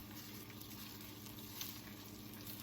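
Scrambled egg frying in a hot medium skillet, giving a faint, steady, even sizzle without a break.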